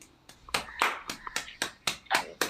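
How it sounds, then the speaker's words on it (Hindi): A few people clap over a Zoom meeting call, with about ten sharp, evenly spaced claps in a steady rhythm, close and fairly quiet. "और तो एक बार जोरदार तालियों से हम लोग स्वागत करेंगे सर का"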